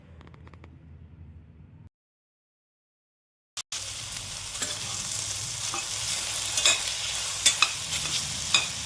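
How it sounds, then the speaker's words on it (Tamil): Okra cooks in a pan with a little oil and salt. A quiet hum cuts to silence, then a click, and steady close frying sizzle with occasional spatula scrapes follows. "ஒரு பேனில் கொஞ்சமாக எண்ணெய் விட்டு வெண்டைக்காவை போட்டு நம்ம ஃப்ரை பண்ணி எடுத்துக்கணும்."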